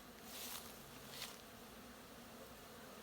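A steady buzzing drone of many honeybees flying around a hive in the evening, with a couple of individual bees passing close and louder, the hum otherwise constant.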